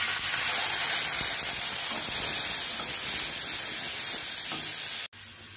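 Soaked chickpeas hit hot oil in a pan with black cumin and green chilies, giving a steady, loud, broadband sizzling hiss that continues unbroken before cutting off abruptly near the end.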